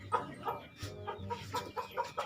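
Chickens cluck repeatedly in short, uneven bursts close by, with no talking.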